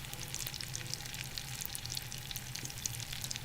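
Chicken breasts fry in a hot pan over medium-high heat, giving a steady, continuous sizzle with scattered crackling pops, close and fairly loud, with no talking.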